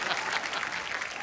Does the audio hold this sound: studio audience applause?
yes